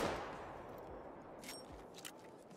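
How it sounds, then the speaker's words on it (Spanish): A hunting rifle fires once in the video game theHunter: Call of the Wild. The single shot cracks at the start, then a low rumbling tail decays quietly, with no talking. "se me ha quedado atrás el disparo"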